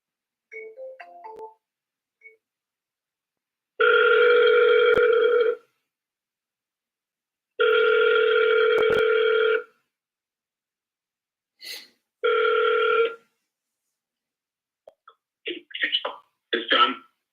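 During a cold call, an outgoing telephone ring tone repeats three times in evenly spaced two-second bursts with silent gaps between them, followed by a short partial ring and then brief voice sounds.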